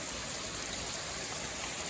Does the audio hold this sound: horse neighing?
no